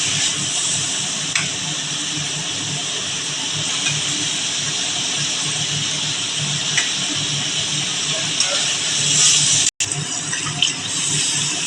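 Water poured into a hot pan of Bengali katla fish curry with bay leaf, ginger and cumin, giving a steady continuous hiss and sizzle that holds evenly throughout with no talking.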